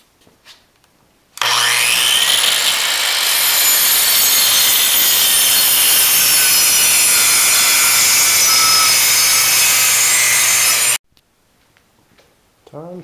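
A power saw bites into wood while cutting tenons for a traditional workbench, a loud continuous rasping cut lasting around ten seconds after a short quiet start, ending abruptly with faint handling noises.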